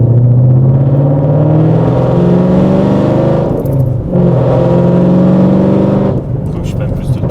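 A Ford Mustang's engine drones and revs loudly and steadily up close from inside the car, rising in pitch, dipping briefly twice between pulls, while people talk over it.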